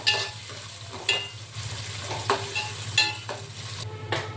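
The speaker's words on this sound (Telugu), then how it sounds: "ఉల్లిపాయ వేగిపోయిందండి" Onion frying in oil with curry leaves and chillies for an Andhra-style mango fish curry, a moderate sizzle broken by several sharp stirring scrapes and clinks against the pan.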